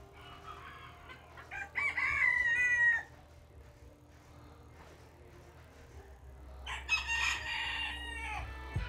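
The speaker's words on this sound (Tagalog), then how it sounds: "Cornish bantam." A Cornish bantam rooster crows twice, two loud drawn-out calls separated by a few seconds, with faint clucking and farmyard noise in between.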